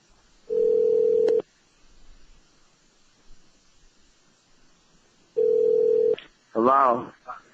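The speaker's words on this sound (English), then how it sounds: "I'm going to give Arturo a call and see if this works." A telephone call is placed and rings through: two long, steady electronic tones separated by a few seconds of quiet, followed by a short burst of brighter beeps, with a brief voice at the very end.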